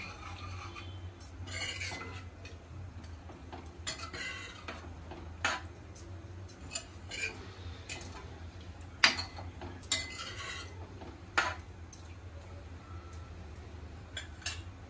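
Metal utensil scraping and clinking inside a pot while mutton curry is stirred, a quiet run of irregular chinks and taps over a low steady hum.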